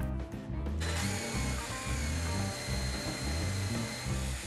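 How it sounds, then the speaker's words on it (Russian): A jigsaw fitted with a homemade sanding attachment grinds steadily and loudly in a workshop, a continuous buzzing whine after a brief uneven start, with no voices. "А получилась у нас вот такая шлифовальная насадка для лобзика."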